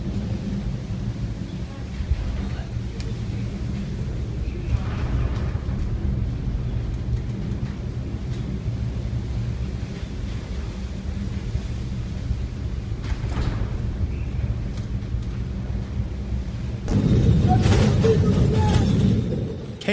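A 3,400-ton vessel rides through a storm on the North Sea, with a loud, continuous low roar of wind and heavy water that swells into a stronger surge near the end.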